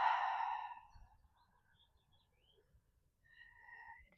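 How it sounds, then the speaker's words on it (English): A deep cleansing exhale during a seated yin yoga practice, one audible sighing breath at the start fading into near silence, followed by a faint later breath sound. "Let's begin with a cleansing breath."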